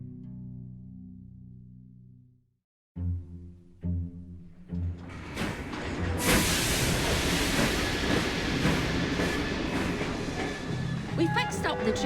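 A train from the Assassin's Creed Syndicate video game rumbles and hisses steadily after a brief silence, loud and close with clanking bursts near the end, with voices heard under it.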